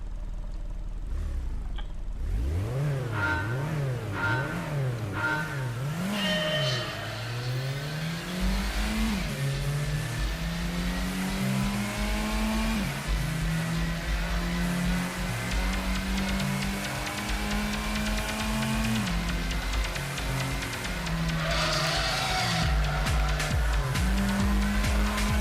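A race car in Gran Turismo revs through rising and falling gear changes, its engine wailing loudly and continuously, with tire squeal and skidding around corners.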